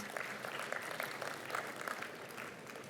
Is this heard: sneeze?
no